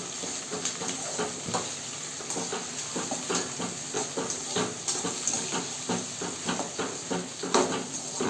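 Dried red chillies, broken crosswise, sizzle in hot oil for a tempering, giving a steady close hiss with crackly pops running throughout.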